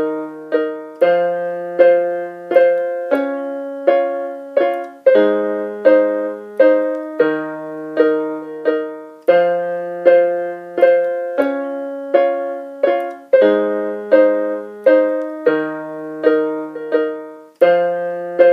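Piano playing the intro of John Legend's All of Me, a repeated pattern of low bass notes under chords, each struck note ringing and decaying, steady and close with no talking.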